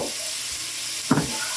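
Garlic and onions fry in a pan with a steady close sizzle, broken by a brief stirring scrape near the end.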